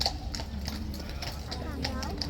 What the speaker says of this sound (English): This horse coming back on.